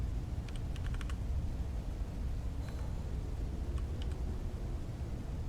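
Faint computer keyboard typing in short bursts of quick clicks, sitting under a steady low hum of background noise during a home gaming stream.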